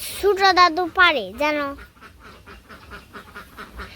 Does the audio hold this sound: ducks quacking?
yes